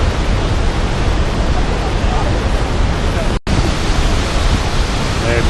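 Waterfall cascades in Yosemite park pour in a dense, constant roaring hiss, loud and close, with a momentary dropout partway through.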